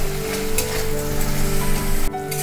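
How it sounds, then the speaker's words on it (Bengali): Fish fry in oil with spice paste, giving a steady close sizzle with a faint crackle that briefly dips near the end. "মশলা থেকে তেলটা ছেড়ে এলে মাছগুলো দিয়ে দেব।"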